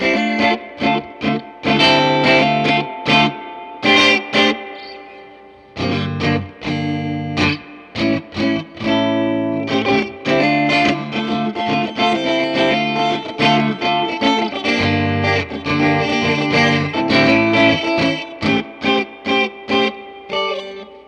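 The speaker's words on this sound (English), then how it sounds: "Let's try the reverb all the way up, because it's interesting to hear the reverb on this thing" Distorted electric guitar chords strummed in choppy bursts through a 2019 Fender Blues Junior amp with its spring reverb turned all the way up, a lingering reverb wash trailing each hit; loud and close, no talking.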